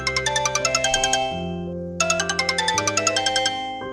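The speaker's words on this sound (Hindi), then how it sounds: "बिस्तर पर सोने ही जा रहा था कि अचानक फिर से फोन बज उठा।" A phone ringing at night, a bright electronic ringtone melody of rapid repeated chiming notes that plays, pauses briefly, then repeats, clear and alone.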